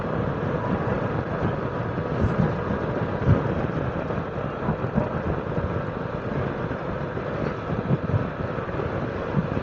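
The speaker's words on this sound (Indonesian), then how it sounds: "Karena emang anginnya kenceng banget ini." Strong wind roars across the microphone while riding a motorcycle on the Pantura highway near Jakarta at about 80 km/h, producing a loud, steady buffeting rumble that runs throughout with no voices.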